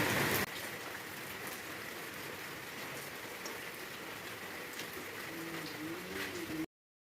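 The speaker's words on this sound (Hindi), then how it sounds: "इतनी तेज़ बारिश भी हो रही है" Heavy rain pours steadily in a dense, even hiss, close by and constant before cutting off abruptly.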